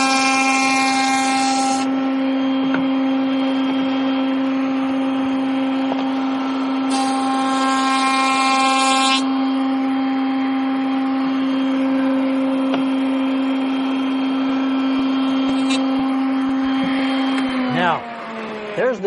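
Handheld router running at a steady high-pitched whine while cutting a dovetail pin in wood, the motor holding a constant tone with brief bursts of harsher cutting noise before spinning down at the end.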